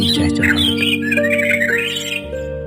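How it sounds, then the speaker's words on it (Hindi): Birds squawk and chirp in a morning forest setting, several bright calls rising over a sustained musical background tone in a short burst. "पक्षियों की चहचहाहट।"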